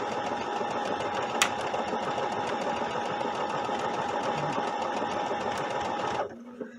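A Brother computerized sewing machine stitches embroidered lettering with a steady, fast mechanical whirr and needle chatter, loud and continuous before stopping abruptly near the end.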